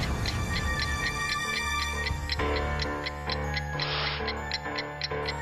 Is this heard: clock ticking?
yes